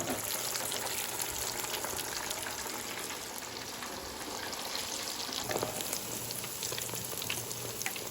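Pieces of albacore tuna frying in hot oil for fish and chips, a steady close crackling sizzle throughout with no talking.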